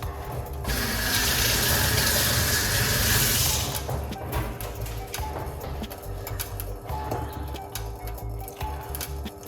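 Hot water pours steadily into a cup for about three seconds in a bright, hissing stream, followed by quieter clinks and small handling sounds in a kitchen.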